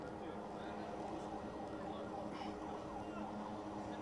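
An ambulance siren wails steadily in Jenin during gunfire, through a dense, noisy background, with a constant rumble of traffic or crowd noise throughout.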